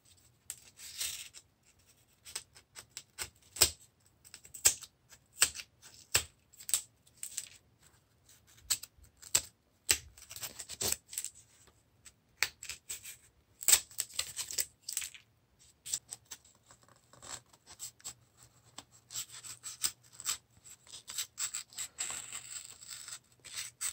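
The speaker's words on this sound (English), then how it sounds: "we're going to want to remove these 2 bits of foam, and we're going to want to bevel all of these edges right here" Hobby blade cutting and beveling foam edges: faint, irregular scratchy slicing strokes and small clicks at close range, scattered through the quiet with short pauses, no voices.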